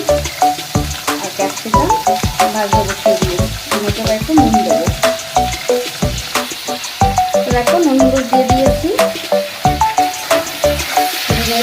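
Potatoes and cauliflower fry in a kadai for a vegetarian yellow chowmein, with a steady sizzle and sharp, irregular clacks of stirring over a tonal background sound.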